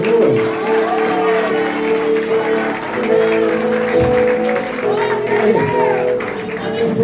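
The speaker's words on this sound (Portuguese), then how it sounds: "E a igreja aplaude o nome do Senhor." A church congregation at a missions service applauds loudly while music and voices sound over the clapping throughout.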